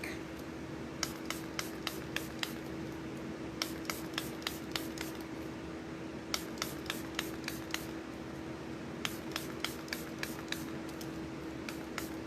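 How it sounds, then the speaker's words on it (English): Short bursts of spray from a small bottle of alcohol misted over inked paisley woodwork, fired in quick clusters of several pumps with pauses between, close and crisp over a steady low hum. "Here's alcohol in a bottle, a little spray bottle."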